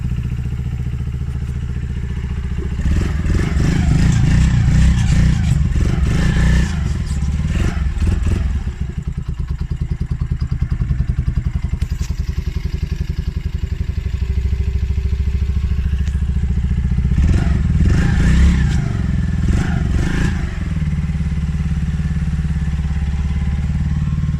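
A Polaris Outlaw 50cc quad engine with the choke on idles high and steady, with two bursts of revving and rattling clatter partway through, close by and loud.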